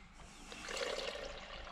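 Water runs from the pump of a Land Rover Defender 130 camper, a soft steady splashing flow heard close up and quietly, with no voices.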